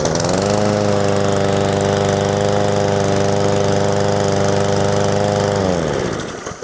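A PowerSmart 22-inch rear-wheel-drive self-propelled gas lawn mower runs at a steady loud drone, close up, for several seconds before the engine cuts and winds down to a stop; no talk.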